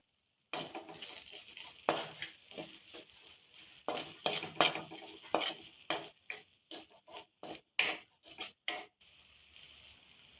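A spoon stirs Kashmiri chili powder and garam masala into a pan while cooking a Kannur-style sardine curry. It makes close, irregular clinks and scrapes against the metal, with short pauses between strokes and no voices.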